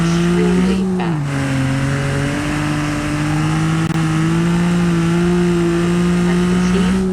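Ibishu Claria car in BeamNG.drive with an upgraded engine, droning steadily at high speed with a sustained, slightly rising engine tone and faint tire noise, loud and continuous with no talk.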